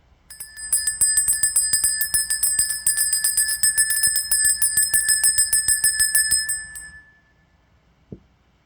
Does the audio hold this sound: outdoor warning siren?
no